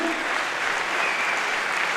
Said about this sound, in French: je vous demande une nouvelle fois d'applaudir dans le coin rouge ce soir